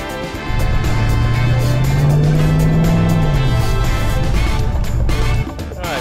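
An original 1968 Dodge Charger R/T 440 V8 rumbles loudly and steadily, its low drone rising briefly in pitch as it revs, then settling before cutting off near the end, pulling into Miami traffic.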